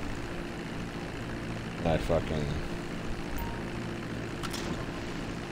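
A propeller airplane in GTA V Online drones steadily and continuously under someone talking, with a brief louder swell partway through.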